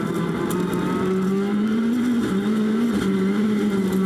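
An engine roars from on board a rallycross car at the 2019 World Rallycross of Latvia, pitch climbing and dropping sharply as it shifts up three gears in quick succession, fighting for traction.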